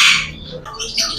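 Kashmiri ringneck parrots in a bird shop give a quick burst of shrill, close squawks and calls.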